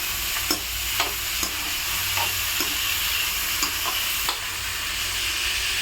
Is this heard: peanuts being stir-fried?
yes